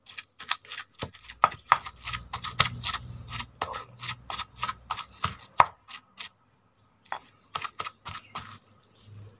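Snakehead fish being pounded in a mortar for northern Thai laab, a close series of sharp, irregular thuds and knocks in quick bursts with a short pause near the end.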